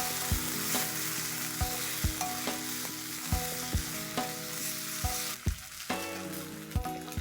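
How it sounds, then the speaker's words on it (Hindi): Ginger garlic paste fries in a hot pan for an Indian aloo soya sabzi, giving a steady loud sizzle with occasional stirring scrapes, with background music underneath. "इसे अच्छे से फ्राई कर लेंगे।"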